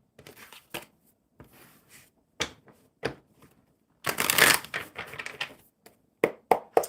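A deck of oracle cards is shuffled by hand in a series of crisp riffling and flicking bursts, close and fairly loud, with brief pauses between shuffles and no talking.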